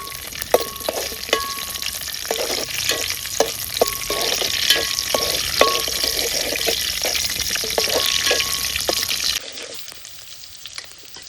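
Garlic, curry leaves and mustard seeds sizzle steadily in hot oil for a home-cooked tempering, a loud continuous frying hiss with frequent spatters and pops that drops to a quieter simmer near the end.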